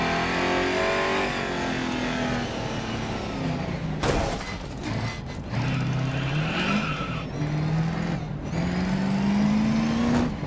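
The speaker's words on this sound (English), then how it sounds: "The engine will totally change tone and sound when you rip the" Holden V8 race car in the Grid Autosport racing game, engine revving hard and shifting through gears with tire squeal, loud and continuous from a cockpit view.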